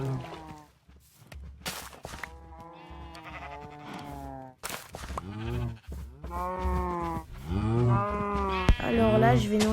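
Cows in the Minecraft video game moo repeatedly, a string of close, loud, drawn-out calls one after another with no talk over them.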